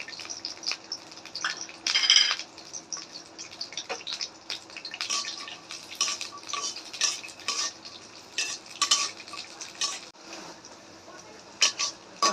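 Nuts fry lightly in oil in a pan while prawn pulao is being prepared, with a soft sizzle under repeated clinks and scrapes of a utensil stirring against the pan.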